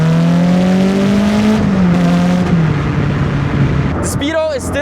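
Caterham sports car engine revs steadily on a loud, close drone, then dips and blips as it downshifts with rev matching; a short, sharp rising rev flares at the end.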